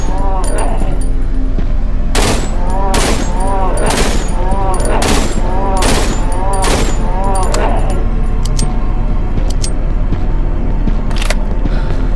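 A firearm is test-fired in the horror game Cry of Fear: a string of loud, sharp shots at uneven intervals, with a final shot after a pause, over a steady low rumble.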